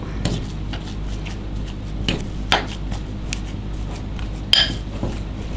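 A spoon stirs potato dough in a pot on the stove, giving scattered clinks and scrapes against the metal, a few sharp knocks standing out over a low steady background.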